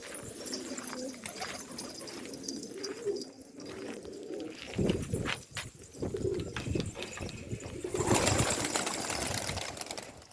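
Hungry pigeons on a rooftop loft, including Hungarian breeds, cooing softly amid ambient outdoor noise and rustling, with a louder wind-like wash toward the end.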